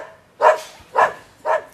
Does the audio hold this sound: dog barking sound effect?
yes